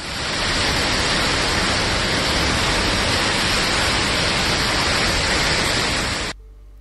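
Niagara Falls waterfall roars as a dense, unbroken broadband rush, loud and close, holding steady for about six seconds before cutting off abruptly, with no voices.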